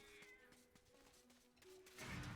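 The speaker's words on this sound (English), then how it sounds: "Is that a cat noise? Just in the distance?" A faint cat meows several times far off in the MediEvil video game, thin calls spread over a quiet background before a louder rush of game noise at the end.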